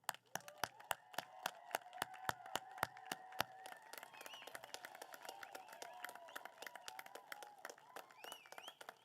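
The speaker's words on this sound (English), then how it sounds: "a round of applause for you." Audience at a graduation ceremony clapping, starting with a few sharp, evenly spaced claps and building into a denser scattered round of applause, fairly faint and distant, with some faint voices mixed in.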